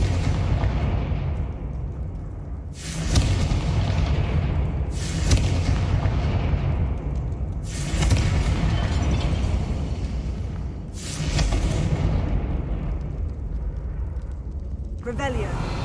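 Confringo blasting spells exploding in the Hogwarts Legacy video game: four heavy booming blasts spaced a few seconds apart, each followed by a rumbling decay, with a player talking faintly beneath.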